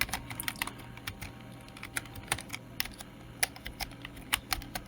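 Rapid typing on a computer keyboard while entering a web search, a steady stream of crisp, close key clicks with no pause, at moderate volume and with no talking.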